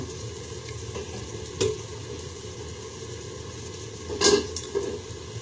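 Whole bananas fry in a pan over a stove with a soft, continuous sizzle and low rumble, and a few sharper stirring scrapes stand out near the end.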